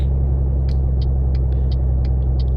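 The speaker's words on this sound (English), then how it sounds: "in my headphones this sound is so loud. It's like in a real life truck" A loud, steady low engine drone from a Peterbilt 379 truck in a driving simulator video game fills the clip, with faint high clicks ticking at regular intervals over the rumble.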